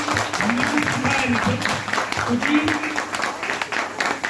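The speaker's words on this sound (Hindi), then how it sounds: "एक जोरदार तालियां होनी चाहिए मिस्टर मनोज सर के" Audience applause at a motivational seminar welcoming a speaker, scattered clapping of moderate loudness running beneath someone talking.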